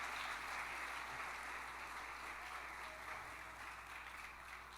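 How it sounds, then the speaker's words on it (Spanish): A church congregation claps during a sermon, a steady, moderately faint wash of many hands applauding together, heard without any talk. "Dele fuerte palmas al Señor"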